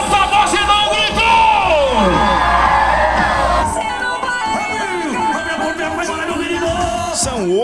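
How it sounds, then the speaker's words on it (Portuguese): A rodeo crowd at an agricultural fair in Santa Luzia do Oeste cheers, whoops and shouts, loud and close, with yells rising and falling throughout and a voice carrying over the din. "O público vai ao delírio com a competição."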